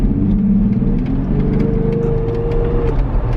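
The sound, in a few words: Jeep Wrangler engine rumble with cold air intake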